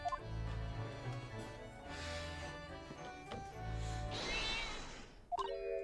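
Cat meowing in The Great Ace Attorney Chronicles video game, several drawn-out tonal meows one after another over background game music, with a brief sharper sound near the end.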